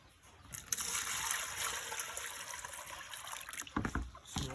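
Water mixed with vitamins poured for brooding chicks, a steady close trickling and splashing that runs for several seconds and ends in a few louder knocks and splashes, no talking.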